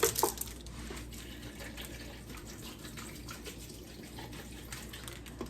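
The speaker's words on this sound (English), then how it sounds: "Then I'm going to go ahead and get some water." Tap water running steadily into a container for making tea, a continuous close splashing stream that starts with a brief louder gush and keeps flowing at an even level throughout.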